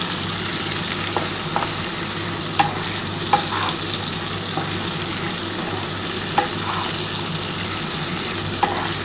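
Potatoes and drumstick pieces fry with salt and turmeric in a pan, a steady close sizzle broken by regular sharp taps of a spoon stirring, with no talking.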